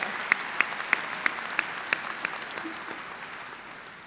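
Sustained applause from a large audience at a spring university commencement ceremony, a steady wash of clapping with a few sharper claps standing out early and gradually thinning toward the end.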